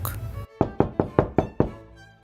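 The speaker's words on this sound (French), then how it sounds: "quelque temps après, vint heurter à la porte" Five sharp knocks on a door in a steady, evenly spaced rhythm, close and clear, following a brief burst of sound.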